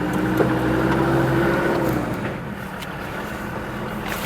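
A Land Rover Defender drives along a country road, its engine a steady low drone with some road and wind noise that eases a little midway through.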